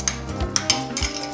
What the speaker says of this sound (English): We're gonna toss in our peas.